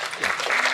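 Applause from a luncheon audience, a brief burst of dense clapping that swells slightly, heard fairly faintly.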